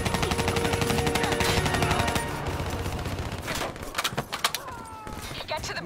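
Rapid covering gunfire rattles through a Black Ops 3 campaign firefight, dense bursts of automatic shots that ease off into scattered sharp cracks and impacts, with voices talking over parts of it.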